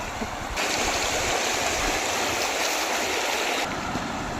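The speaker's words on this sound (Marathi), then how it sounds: "हातनोलीमध्ये पाणी सोडलेलं आहे, त्याच्यामधून हे असं पाणी चालू आहे" Water released through a village water scheme channel at Hatnoli runs in a loud, steady close rush that fills the whole clip without a break.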